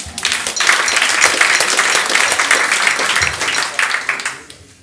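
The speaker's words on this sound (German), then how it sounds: "Also einen kleinen Applaus für Leonie Müller" A live audience at a mock chancellor debate event applauds, a full roomy burst of clapping that holds steady for several seconds before tapering off near the end.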